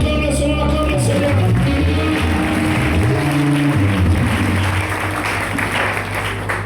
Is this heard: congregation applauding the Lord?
yes